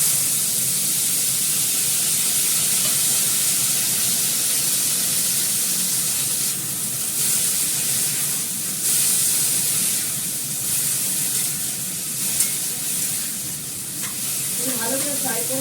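Food fries in a hot pan with a continuous broadband sizzle and hiss, steady and close, occasionally shifting as it is stirred, with no talking.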